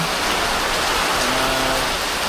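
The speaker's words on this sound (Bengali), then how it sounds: "প্রচুর প্রচুর পরিমাণে বৃষ্টি নামতেছে" Heavy rain from a Kalbaishakhi storm pours down steadily, a dense, continuous hiss of drops drumming on a roof with no break.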